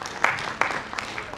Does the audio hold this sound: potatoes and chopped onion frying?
no